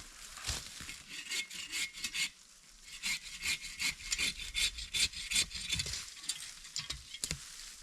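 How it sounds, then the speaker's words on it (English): An Agawa Boreal 21 folding bow saw cuts wood outdoors for a small campfire, giving quick rhythmic back-and-forth rasping strokes, close and fairly quiet, with a short pause partway through. "An old trusty folding bow saw."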